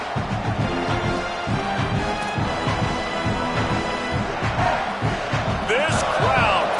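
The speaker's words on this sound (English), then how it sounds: "This crowd, full throat, splitting the eardrums" A football stadium crowd at a USC game roars at full volume, a dense, sustained wall of cheering that holds steady throughout, with a commentator's voice running over the noise.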